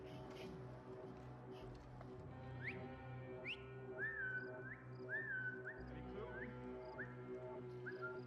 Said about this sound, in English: I think I was whistling the Splash Mountain song there.